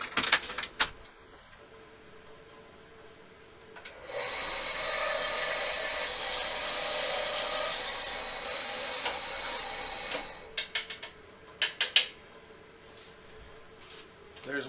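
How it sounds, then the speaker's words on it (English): A bandsaw cuts a short tube spacer for an axle on a mini Model S chassis, giving a steady, fairly loud grinding whine for about six seconds before a few sharp clicks and knocks as the piece comes free. "we'll go ahead and pull the bandsaw out and start cutting"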